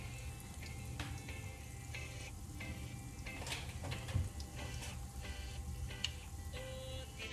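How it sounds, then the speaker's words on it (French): A steady, soft sizzle of ricotta cheese croquettes frying in oil, with scattered small pops and crackles throughout, close and continuous. "On va procéder à la friture de façon tout à fait normale."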